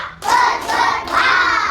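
A classroom of first graders claps in unison in a counting rhythm game, three loud group bursts of clapping close together with young voices chanting along.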